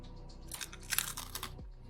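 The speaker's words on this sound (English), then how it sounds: "They are sweet and crunchy and also" Crunching bites of a sweet, salty, crunchy Korean snack, several close crisp crackles in quick succession with no talking.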